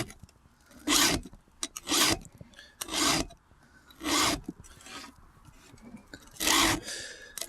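A chainsaw chain is sharpened by hand with a file, guided at the tooth: about six loud, broad rasping strokes, each roughly half a second, spaced by short pauses, close and alone with no talk.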